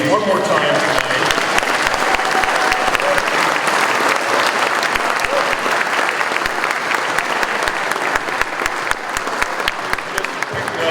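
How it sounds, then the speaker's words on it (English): Sustained, dense applause from an audience honoring inductees at a 2024 Hall of Fame ceremony, steady and loud for about eleven seconds with a faint murmur of voices beneath. "Let's give a big round of applause for our honorees one more time tonight."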